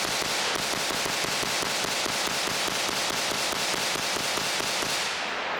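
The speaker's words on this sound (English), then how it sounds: "I took it out to the range, and we put 400 rounds through it" A Diamondback DB15 rifle fires at an outdoor shooting range in a dense, continuous stream of sharp cracks that runs for several seconds before stopping abruptly, loud and close with no talking.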